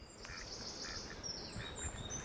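Faint, thin peeping calls from a small mallard duckling by a pond in Yarrow Valley, repeating over a steady outdoor hiss, distant and quiet, with no talk.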